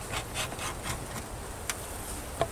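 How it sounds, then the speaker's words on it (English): A hive tool scrapes propolis off a wooden beehive box, giving soft repeated rasping strokes at close range, with a couple of sharper knocks near the end. "This is all propolis I'm scraping off here."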